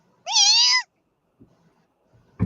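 A cat lets out one high, drawn-out kitten-like meow, close and clear, followed by quiet faint shuffles and a soft thump.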